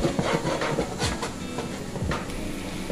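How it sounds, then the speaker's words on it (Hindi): Onions sizzling as they brown in hot oil for a chicken karahi, a steady close hiss and crackle with a few sharper spits, running evenly throughout. "देखिए प्याज हम कर रहे हैं अपनी ब्राउन थोड़ी सी लाइट, ऑयल हमारा गर्म हो चुका है।"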